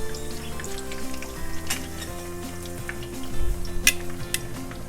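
Vegetable slices for moussaka fry in oil in a pan, a steady close sizzle with faint clinks and a brief louder burst of crackling near the end, no talk.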